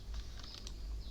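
Soft clicks from a computer keyboard as a few keys are tapped in quick succession, quiet and close with no voices.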